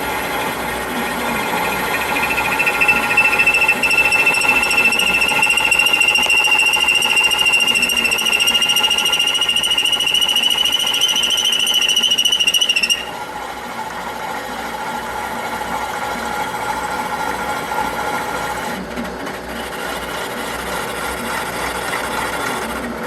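A Bridgeport mill cuts clearance into the cylinder bottoms of a Ford 347 engine block for the connecting rods. It makes a steady, loud machining drone with a high whine that stops partway through, then lower shop noise continues.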